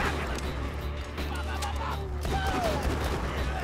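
Rapid gunfire in Borderlands 2 co-op combat against psychos, sustained bursts of shots packed together under a steady wash of game noise, with voices of players talking over the shooting.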